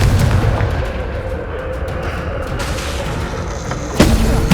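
Confringo fire spell cast in Hogwarts Legacy, a sustained rumbling blast with crackling combat noise throughout and a sharp explosive burst near the end.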